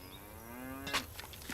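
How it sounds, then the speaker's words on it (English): A single cow gives a long, clear, low moo on a ranch in Nancy Drew: The Secret of Shadow Ranch, heard against quiet background ambience. "I love that we hear cows, but we never see cows."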